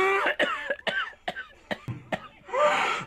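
Played from a prank recording, a run of repeated, harsh coughs comes in an irregular rhythm, close up, and ends in a longer raspy cough.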